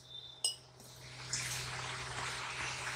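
Water is poured slowly into flour for roti dough, a steady close trickle that starts after a brief clink of a utensil and continues to the end.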